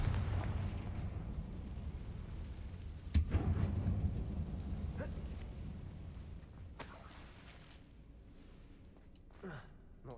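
A Confringo spell explosion in the Hogwarts Legacy video game, set inside a closed mine that looks like a tomb: a sudden deep blast with a rumbling tail that slowly fades, followed by quieter thuds and rustles.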